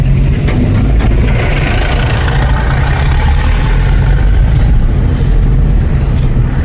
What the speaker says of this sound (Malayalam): ട്രാക്ടർ